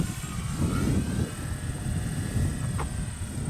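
A Dynam RC model plane, a P-51, Spitfire or T-28 type, drones overhead with a steady buzzing motor that swells and fades slightly at a moderate distance, outdoors with wind rumble and no talk.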